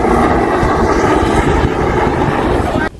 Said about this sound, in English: So we have a helicopter right there